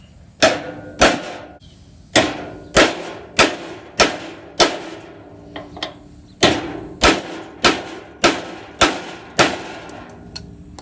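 Metal hammer blows drive an old socket against a universal joint cup on a Suzuki rock crawler, about a dozen loud, sharp strikes in an uneven rhythm, mostly in pairs and single hits, close up with no talking.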